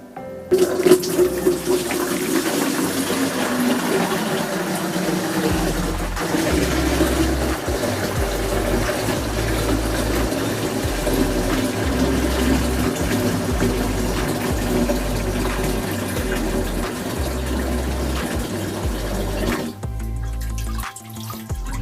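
Home-brewed sugar syrup, two kilograms of sugar cooked down, pours steadily into a fermentation container, a continuous close splashing and gurgling liquid flow lasting about twenty seconds before stopping.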